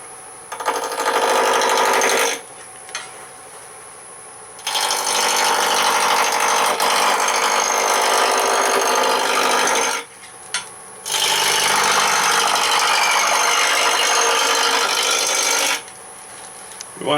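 Wood lathe turning a square spindle blank at about 750-800 RPM, a steady motor whine with loud rasping bursts as the gouge cuts the corners, pausing twice between passes.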